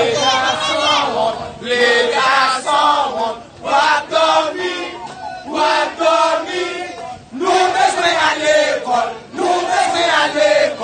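A large crowd of protesters chants a song together in a Haitian street, loud and near, the singing rising and falling in repeated phrases with short pauses between surges.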